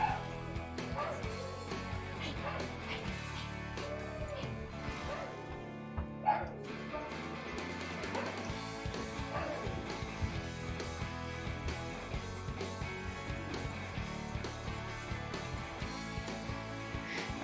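Dogs at a house bark and yip in short bursts with occasional whimpers, mixed into a busy background of music or game sound with some talking.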